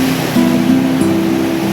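Continuous wash of ocean surf rolling in at Batu Hideung beach on Indonesia's southern coast, with a steady low droning hum running underneath.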